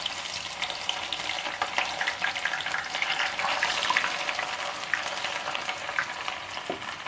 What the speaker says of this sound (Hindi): अब मैं इसमें इसी हाई फ्लेम पे प्याज डाल रही हूँ।